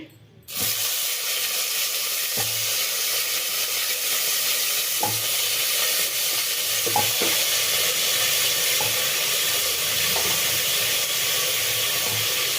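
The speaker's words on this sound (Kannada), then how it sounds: "ಈ ಎಣ್ಣೆನಲ್ಲೇ ನಾನೀಗ ತರಕಾರಿ ಹಾಕ್ಕೊಳ್ತೀನಿ ಆಲೂಗೆಡ್ಡೆ ಬದನೆಕಾಯಿ" Potato and brinjal pieces drop into hot oil and fry, setting off a sudden loud sizzle that then hisses steadily, with a few sharp stirring knocks against the pan.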